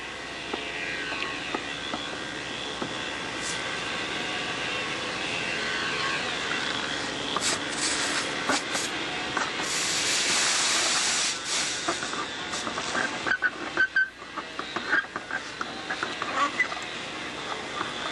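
A torch hisses steadily while silver soldering a metal push rod for a model airplane, with a louder burst of rushing flame partway through and small clicks and taps of handling near the end.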